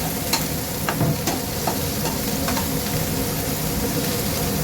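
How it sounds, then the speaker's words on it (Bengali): Mutton liver frying in a pan with very little oil, turmeric and Kashmiri chili powder, stirred continuously: a steady close sizzle with scraping stir strokes throughout, no talking. "নাড়াচাড়া।"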